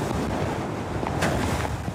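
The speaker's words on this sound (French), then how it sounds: "la violence des vagues qui charrient sable et cailloux sur le remblai" Rough storm sea during Storm Pierrick roars continuously along a Vendée seafront, heavy waves carrying sand and pebbles onto the promenade, blended with strong wind buffeting the microphone, loud and unbroken.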